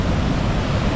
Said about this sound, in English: If you can hear me with the noise of the water